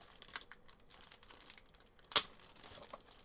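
An unopened yellow plastic bag crinkling as it is handled, a soft continuous rustle with one louder crackle midway, close and quiet with no talking.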